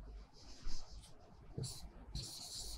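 Chalk or marker moving over a classroom board in short faint strokes, with quiet room tone and no speech.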